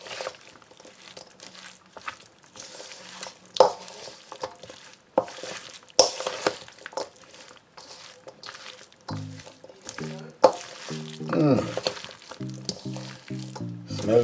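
Mayonnaise mixed into Jamaican chicken salad in a bowl: intermittent wet squelching and scraping strokes, irregular and close, with stretches of quiet and a few clunks, no speech.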